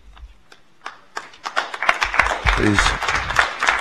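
Applause at a Fresno Unified school board meeting starts as scattered claps, then swells into fuller clapping from the crowd, with a voice briefly audible amid it.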